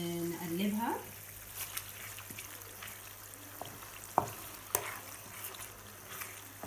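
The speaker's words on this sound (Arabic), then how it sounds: "وهنضيف معلقه الثوم بتاعتنا اللي احنا عملناها كده، وهنبتدي ان احنا نقلبها" Alexandrian-style liver is stirred in a frying pan as garlic goes in, with a brief utensil scrape at the start, then a soft steady sizzle and occasional sharp clinks of the spoon against the pan.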